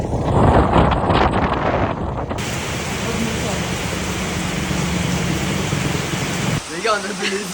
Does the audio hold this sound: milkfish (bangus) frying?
no